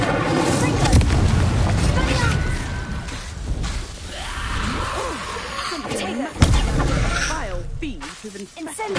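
Incendio fire spell cast in Hogwarts Legacy, a fiery whoosh and crackling blast with a sharp impact midway, mixed with loud spoken voices throughout.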